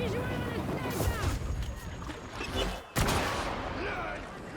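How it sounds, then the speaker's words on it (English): Enemy gunfire crackles in Darktide, with sharp bursts of shots around the player amid busy combat noise and shouted voices. "They are shooting at us!"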